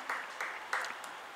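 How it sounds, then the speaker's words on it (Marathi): An audience at a literary event gives a guest a short burst of welcoming applause, with a few quick, faint rounds of clapping. "जोरदार टाळ्या वाजून आपण त्यांचं स्वागत करूया."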